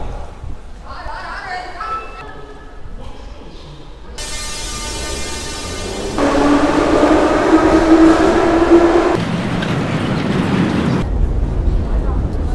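A Tbilisi metro train running deep underground, a rumbling, rising roar of wheels and carriages that swells loud in the middle and stays steady, with a voice talking over it early on.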